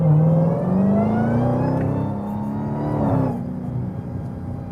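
Dodge Demon 170 engine in drag mode revving hard and continuously, a loud, close, rising and falling growl that sweeps upward, dips, then settles into a steady aggressive idle-like roar.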